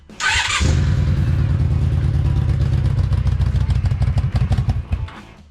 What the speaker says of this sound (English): she starts now with the push button